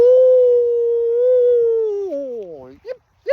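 A voice imitates a coyote with a long sustained howl that bends downward at the end, then breaks into two short, sharp yips, loud and close with nothing else behind it.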